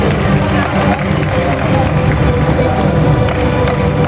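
An audience crowd at a bird show at Bird Paradise, Mandai Zoo, claps and stirs in a dense, loud, steady applause lasting several seconds, with talk and babble mixed in.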